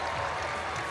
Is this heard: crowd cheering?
yes